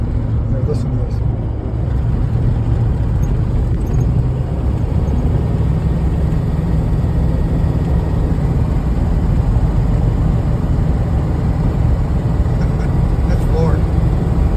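A worn-out truck engine at full throttle drones steadily from inside the cab with the windows rolled up, a loud, low, continuous rumble with road noise and no pause.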